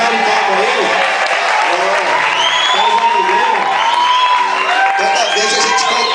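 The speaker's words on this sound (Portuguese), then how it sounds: "Uma salva de palmas pra ele." Loud, sustained audience applause for a drummer at a school performance, dense clapping mixed with cheering, whoops and shouting voices throughout.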